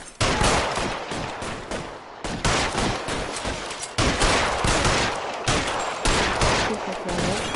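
Loud, dense gunfire in L.A. Noire, with overlapping rapid shots and bursts continuing almost without pause, close and harsh.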